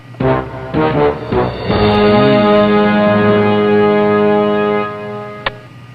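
Old rotary telephone ringing in a comedy detective adventure game, a sustained loud electronic ring with dense harmonics lasting several seconds after a few short bursts, with no speech.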